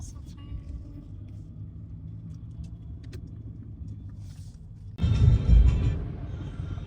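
A Mercedes car drives on a city road in Pune, giving a steady low cabin rumble that swells louder near the end while people talk over it.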